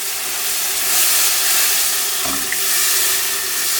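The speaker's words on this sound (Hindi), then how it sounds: "उसके बाद दूध ऐड करना है, 1 कप। थोड़ा थोड़ा आपने डालना है और इसको मिक्स करते जाना है" Milk is poured a little at a time into toasted flour in a pan and stirred, producing a loud, steady hiss and sizzle throughout, with a brief thump near the middle.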